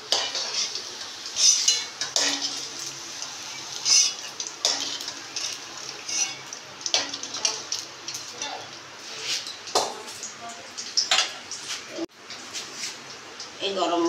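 Fried paneer is lifted out of a pan, with repeated scraping and clinking of a metal spatula against the cookware over a light sizzle, irregular knocks spread through the whole stretch while someone talks.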